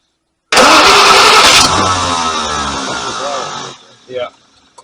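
Packard 327 straight eight engine with a four-barrel carburetor cranking and catching loudly up close, running roughly for a few seconds before dying out, followed by a faint voice.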